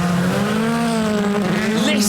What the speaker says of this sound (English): Listen to the power from Kristoffersen's car as he comes through the right-hander